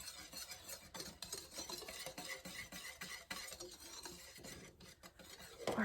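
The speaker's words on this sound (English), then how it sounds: "I'm just gonna mix that up real quick." Pancake batter's dry ingredients with a little salt stirred in a bowl, a soft continuous scraping and swishing of utensil against bowl, close but quiet with faint clinks, no voices.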